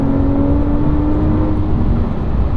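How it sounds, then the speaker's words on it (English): A 2020-2023 Toyota Supra fitted with a Frequency Intelligence exhaust accelerates: a loud, steady, low engine drone with a faint whine, heard close and somewhat muffled, with no talking. "let's go ahead and let's accelerate a little bit with it"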